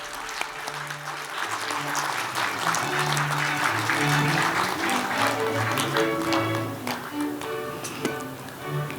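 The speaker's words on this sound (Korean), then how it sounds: "여러분들께서는 수상을 축하하는 큰 박수 다시 한번 부탁드리겠습니다" Audience applause fills the hall at an award ceremony, sustained dense clapping from a large crowd lasting throughout, with faint background music tones beneath.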